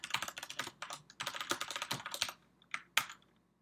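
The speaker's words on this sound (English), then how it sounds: "I keep missing that key. This new keyboard's killing me." Typing on a new computer keyboard: quick bursts of close, crisp key clicks in uneven runs, pausing, then a few final sharp taps, with no talking.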